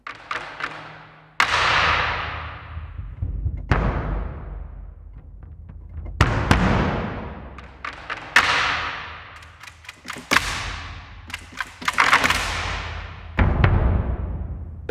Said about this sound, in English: Bass drum hits.